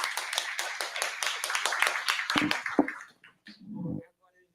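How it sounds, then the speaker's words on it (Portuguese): Applause breaks out among an audience at a health seminar on diversity and inclusion. Scattered, moderately loud claps overlap a speaking voice for about three seconds, then taper into a few isolated taps while talk continues. "uma salva de palmas para ele"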